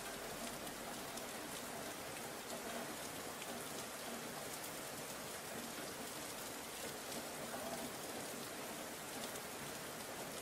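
Constant, even rain hiss, like a steady downpour on a surface, continuing without change or pauses throughout.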